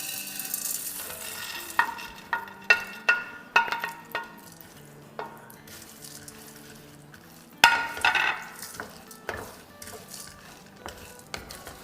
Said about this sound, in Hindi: तो इसे भी 2-3 मिनट अच्छे से फ्राई कर लेंगे।